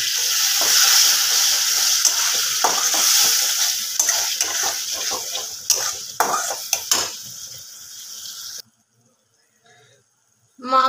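Mutton keema masala cooks with added water, and a spoon stirs through the pan, giving a steady sizzling bubble with scraping and clinking strokes. It then drops to near silence.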